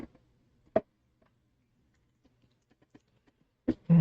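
Scissors trimming excess paper on a painting pad, heard as a few isolated close snips and small ticks separated by quiet gaps, with a sharper burst at the end.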